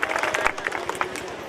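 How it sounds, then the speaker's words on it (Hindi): A seated audience at a community gathering gives a short round of applause, a quick scatter of overlapping claps at moderate loudness. "इनके सम्मान में एक बार जोरदार तालियां हो जाए"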